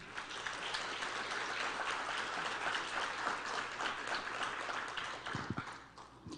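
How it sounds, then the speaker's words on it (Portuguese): A church congregation breaks into sustained applause, a dense, even wash of many clapping hands that carries for several seconds before thinning out near the end. "Dá uma salva de palmas ao Senhor."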